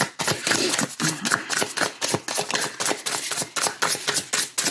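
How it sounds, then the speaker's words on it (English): Rapid, crisp flicking and riffling of tarot cards being shuffled, bursts of sharp snaps repeating close up with no talking. "So shuffle again."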